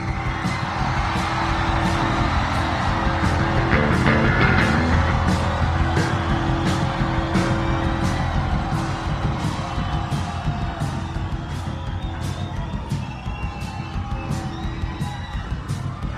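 A concert crowd at the House of Blues in Myrtle Beach screaming and cheering for an encore in 1998, a dense, loud, sustained roar of shouts and whoops with steady rhythmic claps or stomps throughout.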